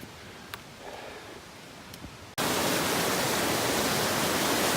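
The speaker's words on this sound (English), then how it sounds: "kind of a never-ending waterfall type creek" Rushing mountain creek cascading like a waterfall along a Rockies trail to Cirque Lake in Banff National Park, a loud, steady broadband roar cutting in abruptly after quieter rustling outdoor ambience.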